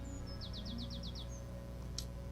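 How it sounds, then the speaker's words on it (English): Sparrows around a guild in the Fable video game give a quick run of about seven bright, evenly spaced chirps, then a single sharp tweet, faint over a low steady hum. "Those damn sparrows are making a right mess of the guild."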